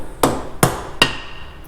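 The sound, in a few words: plastic dead blow hammer striking Harley-Davidson rocker box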